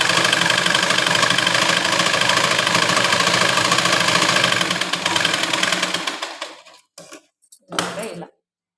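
A sewing machine runs steadily, stitching a lehenga's double-folded hem made from saree fabric, a dense continuous whir that stops near the end, followed by a couple of short bursts.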